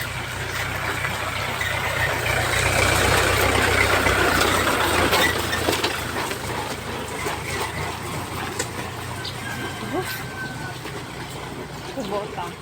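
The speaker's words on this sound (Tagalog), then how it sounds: "Traktora." A Kubota tractor engine runs on a farm with a steady, low idling rumble at moderate distance, continuous throughout, while people talk over it.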